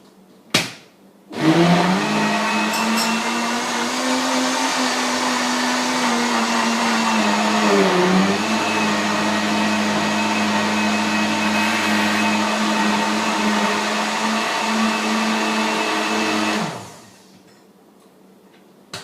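A blender whirs loudly and steadily for about fifteen seconds blending a green smoothie of liquid, fruit and greens, dipping briefly in pitch midway as the load shifts, then winds down to a stop.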